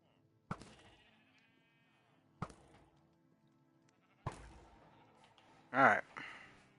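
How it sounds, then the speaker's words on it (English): Three short bleats from a Minecraft sheep, spaced a couple of seconds apart, followed by a louder, breathier cry near the end; faint game ambience in between. "Oh, I just killed a sheep."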